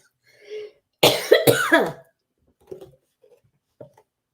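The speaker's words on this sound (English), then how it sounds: "Sorry, here it comes the cough." A couple of harsh, close coughs in a quick burst, preceded by a short vocal sound and followed by faint throat noises.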